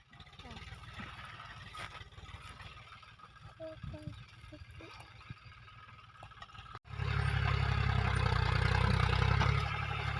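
A tractor engine runs near a field, a steady low rumble under a child and an adult talking, growing much louder and closer in the final few seconds.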